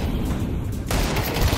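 Desert Eagle gunfire in Counter-Strike 2, heard as loud, dense, overlapping bursts of gunshots and booms over a noisy game background, with a sharp surge partway through.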